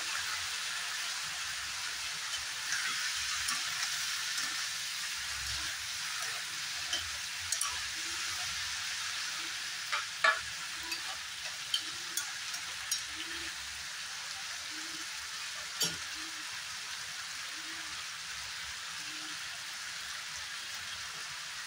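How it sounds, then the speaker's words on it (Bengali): Cut potatoes frying in a pan while making a banana flower dish, a steady hissing sizzle like light rain running throughout, with scattered soft stirring taps and scrapes close by. "এখানে দিয়ে দেব কেটে রাখা আলু।"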